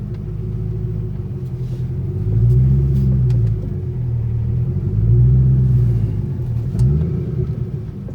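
A 2006 Ford GT V8 with its mufflers deleted rumbles deeply while driving slowly, its loud, close exhaust note swelling in a few gentle throttle surges without any talking.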